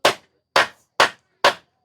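Four sharp, evenly spaced hammer blows strike a large nail, each a loud close impact with a quick decay and clean silence between hits.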